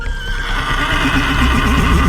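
A horse neighing loudly in a close, sustained whinny with a wavering pitch, over a dense rumbling background.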